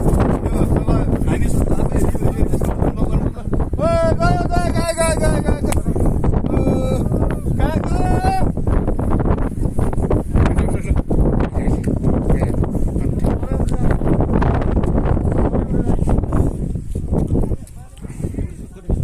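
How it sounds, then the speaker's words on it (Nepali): Strong wind blows across a hilltop tower at Shailung, roaring in steady, buffeting gusts against the microphone while a person talks over it throughout. "अब कति हावा चलिरहेको छ"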